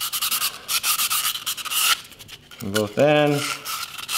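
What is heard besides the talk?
sanding a carbon blade with sandpaper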